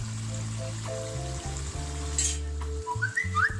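Chicken karahi with tomatoes fries in a pan, a steady close sizzle under a droning, whistle-like hum that shifts pitch in steps.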